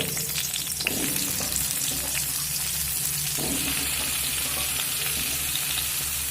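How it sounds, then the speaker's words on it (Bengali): Potatoes and papaya frying in a pan with salt and turmeric, a loud, steady close sizzle with faint stirring scrapes, unbroken throughout. "যেহেতু সব সবজি আমি লবণ দিয়ে ভাজছি"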